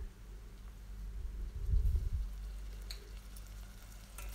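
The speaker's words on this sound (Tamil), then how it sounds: "இஞ்சி பூண்டு பச்சை வாசம் போகிற அளவுக்கு நல்லா வதக்கிக்கோங்க" Sliced onions and ginger garlic paste sautéing in a pan for a spicy chicken gravy, a steady low sizzle that swells briefly midway, with no voices.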